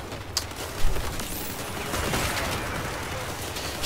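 Gunfire rattles in dense bursts in the vehicle-combat video game Crossout, with one sharp, loud crack near the start and continuing clatter of shots under noisy battle ambience.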